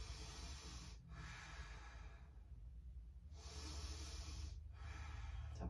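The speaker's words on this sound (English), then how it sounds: "Deep breath in, deep breath out." Slow, quiet breaths in and out during a gentle standing yoga flow, soft airy exhales in a few long cycles separated by brief pauses.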